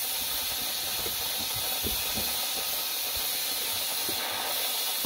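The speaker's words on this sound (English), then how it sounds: "Room is full of steam" Steam hisses steadily and loudly from an All-American pressure cooker running a load of mushroom grain spawn bags, a continuous close rush with faint low knocks underneath.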